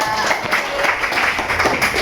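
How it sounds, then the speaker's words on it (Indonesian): A school class gives a short round of applause for a student during a lesson, with quick, scattered claps blending into the room noise and voices heard faintly beneath. "Oke, tepuk tangan untuk Aulia"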